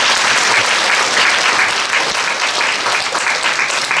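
Loud, sustained applause from an audience at a regional education outreach event, honoring the journalists present; dense, steady clapping fills the whole stretch without pause.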